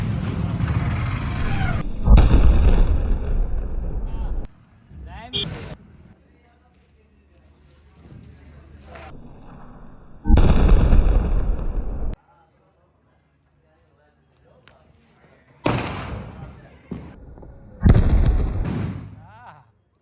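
Diwali firecrackers bursting outdoors: several loud, broadband blasts with crackling tails come in separate bursts, with people talking and calling out between the explosions.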